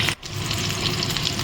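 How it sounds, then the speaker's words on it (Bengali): Pointed gourd (potol) frying in hot oil in a kadai, a loud, close, continuous sizzle and crackle with a brief dip at the start. "এবারে আমি পটলগুলো ভেজে তুলে নেব"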